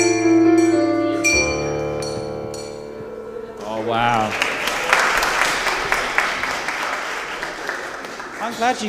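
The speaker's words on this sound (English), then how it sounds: "glad you clapped spontaneously." A church congregation at the Duffus Kirk Christmas Eve candlelight service breaks into spontaneous applause. Sustained sung and played tones come first, then a burst of dense, lively clapping continues to the end.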